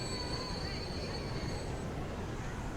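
Train rolling through a river delta scene in a video game: a steady low rumble with faint high squealing tones, continuous for a few seconds with no clear breaks.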